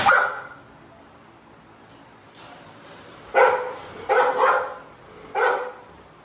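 Several dogs in kennels let out loud, close barks in irregular bursts, with short yips between them and quiet gaps.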